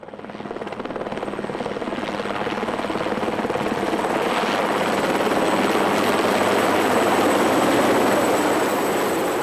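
Rescue helicopter hovering over a Mont Blanc mountain ridge while a rescuer is winched down, its steady rotor thump and turbine whine loud and close, swelling slightly over time with no voices.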